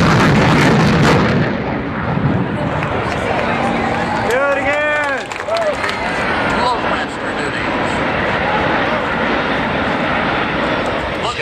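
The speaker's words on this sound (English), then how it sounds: "he's going to grab the throttle and give it everything it's got, and Bill Brack is going to light the burner" A military jet at an air show roars at full throttle with afterburner, a loud sustained rumbling blast with a sweeping engine whine, while an announcer talks over a public address system.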